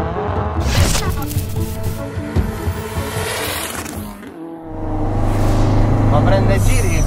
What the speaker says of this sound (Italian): Prende giri con una facilità. Mamma mia, senti la turbina.